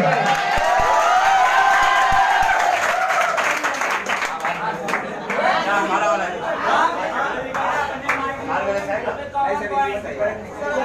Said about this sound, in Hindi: तालियां गुरु जी के लिए